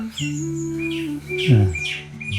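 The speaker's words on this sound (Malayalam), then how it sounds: "ഇതിന് മുകളിൽ എന്താ കൊറേ കിളികളുണ്ട് കേട്ടാ." Bright, high bird chirps and tweets sound over a steady low humming drone.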